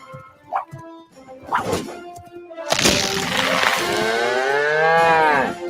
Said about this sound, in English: That big old cash cow.